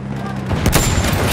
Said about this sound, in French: Mitrailleuse ennemie